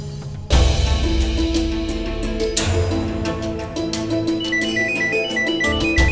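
A phone ringtone plays loudly with a repeating electronic melody, starting abruptly and continuing steadily without any voices.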